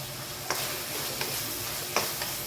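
Tomatoes sauté in a pan with a little salt, a low continuous sizzle broken by a few light clicks of a spoon stirring against the pan, close and quiet.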